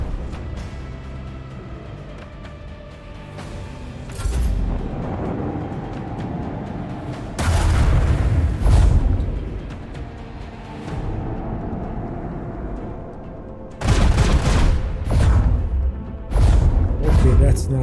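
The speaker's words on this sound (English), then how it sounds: "Macro cannons, open fire!" Macro cannons fire in Warhammer 40k: Rogue Trader, a spaceship battle game, with several heavy booming bursts in separate clusters over a rumbling background, and game speech runs in between.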